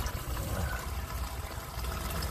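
Liquid drains from the oil pan of a 1976 Ford F250, a steady, close, splashing trickle that runs continuously and alone.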